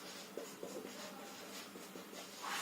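Chalk scratches and taps across a board during a lecture, a series of short faint strokes in quick rhythm at a quiet, roomy distance.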